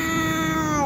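A cat in Zacatecoluca, El Salvador, gives one loud, drawn-out meow that fills the whole moment, close by with no voices over it.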